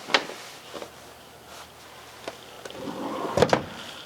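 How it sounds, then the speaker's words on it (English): Storage drawers in a Winnebago Travato 59G camper van slide and knock, with soft thumps and scrapes scattered through the span and a louder run of sliding and closing clunks toward the end. "down low, we do have 2 more storage drawers"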